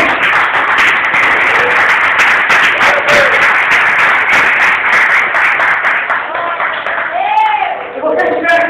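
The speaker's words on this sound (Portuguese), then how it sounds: "salva de palmas para o Senhor Jesus nesta noite." A church congregation claps for several seconds, a dense crackle of hands near and loud, then the clapping thins out as worship voices and cheers rise toward the end.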